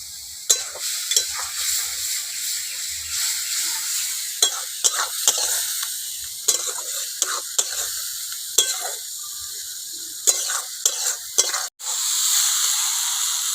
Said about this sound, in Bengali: সামান্য জল দিলাম মশলা যাতে না পুড়ে যায় মশলা ভালো করে কষে নেব